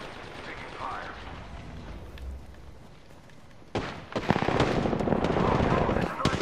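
Rapid gunfire in a chaotic Apex Legends firefight, building from a quieter stretch into a loud, dense burst of repeated shots over the second half, with game noise throughout.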